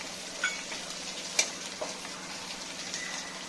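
Red chillies frying in a pan for mohari chi bhaji (mustard greens), a soft, steady sizzle with a few small pops and crackles, fairly quiet and without talk.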